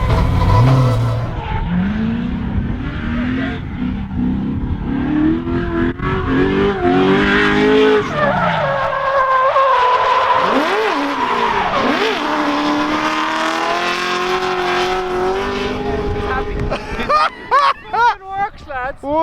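Corvette C6 and SR20-swapped MX5 drift cars screech and skid around a track, tires squealing in long sweeping tones over engine roar, loud and close throughout, with voices talking over the noise.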